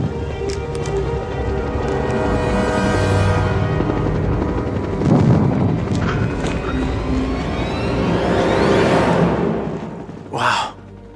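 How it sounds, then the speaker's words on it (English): Helicopter flying close behind during a sci-fi action chase: a loud, sustained rotor and engine roar with rising and falling sweeps, mixed with other vehicle noise, ending in a brief sharp burst. "we got a helicopter right behind you"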